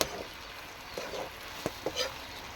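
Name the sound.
stir-frying taro leaves with spices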